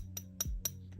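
Three quick, light clinks of a hollow, lightweight counterfeit Beyblade spinning top, evenly spaced within a second, bright and thin over a low hum.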